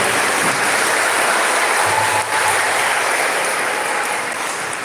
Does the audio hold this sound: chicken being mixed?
no